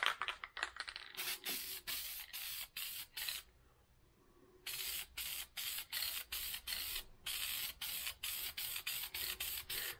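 Aerosol filter oil for a 2012 Kawasaki KX450F air filter hisses in a long run of short, sharp spray bursts, close up, with one brief pause midway and no talking.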